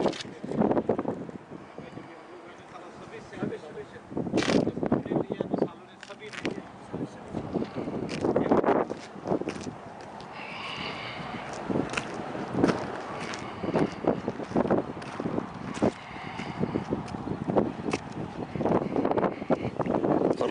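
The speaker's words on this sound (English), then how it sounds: "Some wind noise here." Wind buffets the microphone outdoors at an old cemetery in Tonopah, Nevada, with a continuous loud rumble and gusty bursts throughout.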